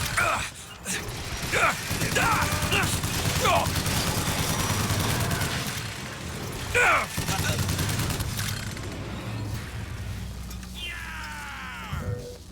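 Rapid gunfire and clanking weapon mechanisms from the video game Bioshock Infinite, with a continuous mix of shots and metallic clicks and a voice talking over the action throughout.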